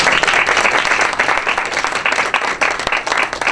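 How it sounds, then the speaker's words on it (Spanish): Sustained audience applause at a university constitutional-reform conference in Mexico, a dense steady wash of many hands clapping close by and fairly loud, with no speech over it. "para quien pido de entrada un aplauso"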